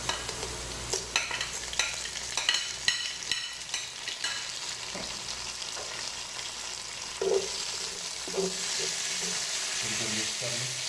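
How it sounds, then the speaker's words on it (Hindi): Onions frying in a pan for chana pulao while garam masala is added: a continuous close sizzle with spoon stirring and scraping, and a few louder clinks and thumps later on. "प्याज फ्राई हो चुके हैं, अभी हम इसमें गरम मसाला डालेंगे।"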